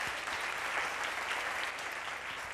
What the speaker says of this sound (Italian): la possiamo finalmente vedere la nostra direttrice artistica Claudia Aguiari. Un applauso